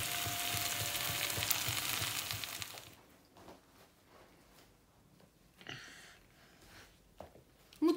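Food fries loudly in a home kitchen pan with a steady sizzle, then stirring scrapes and clatters follow more quietly once the frying noise drops away.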